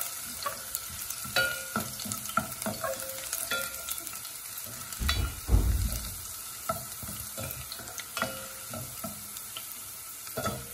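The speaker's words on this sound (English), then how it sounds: "Give this a stir." Hilsa fish curry is stirred in a pan with a spoon, making intermittent scrapes and clinks over a soft sizzle. One louder, fuller stir comes midway. The sound is close and fairly quiet, with no talk.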